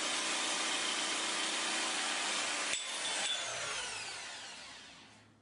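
A Bosch GST 150 jigsaw fitted with a tungsten-coated blade cutting ceramic wall tile. The motor buzzes steadily, breaks off abruptly near the middle, then winds down and fades. Nearby, no voices.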